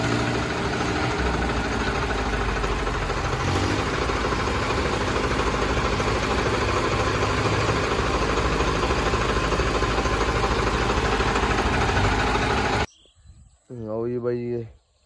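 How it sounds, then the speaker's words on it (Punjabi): Several tractors bogged down in wet mud on a soil-moving job idle together in a loud, steady rumble that cuts off abruptly near the end, followed by a short burst of talk. "ਪਿੱਛੇ ਆ ਗਏ ਟਰੈਕਟਰ ਸਾਰੇ ਇਕੱਠੇ ਜਿਹੇ ਹੋ ਗਏ"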